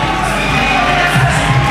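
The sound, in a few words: crowd cheering at a fight event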